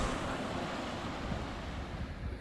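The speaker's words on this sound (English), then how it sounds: "Neil is crossing a river." Rushing river water as a hiker with a heavy pack wades across, a steady broadband wash with wind buffeting, continuous and fairly faint throughout.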